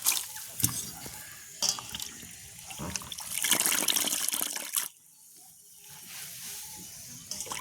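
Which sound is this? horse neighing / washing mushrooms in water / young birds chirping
washing mushrooms in water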